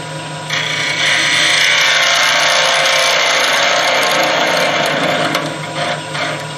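A skew chisel cuts into a spinning wooden box blank on a lathe, making a loud, sustained hissing shear that swells after half a second and holds steady for several seconds, with no voices.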